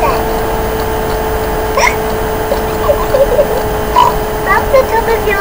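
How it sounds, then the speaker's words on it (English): A young cartoon pig hiccups in a children's animated show, with several short, sharp hiccup bursts scattered over a steady background bed of music and sound. "George's hiccups are spoiling the game."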